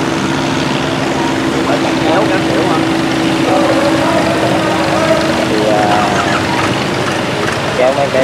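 Barge engine running as it passes through a sluice, belching black smoke, a loud steady low drone with a humming tone, close, with voices talking over it.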